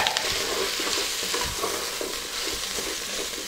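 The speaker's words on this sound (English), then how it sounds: "So in goes the leeks. In goes the garlic. Stir that around." Leeks and garlic stirred in a soup pot for chicken and dill dumpling soup give a steady close sizzle with scraping strokes running through the whole stretch, with no voices.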